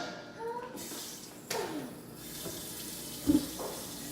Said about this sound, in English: Fill it up with some hot water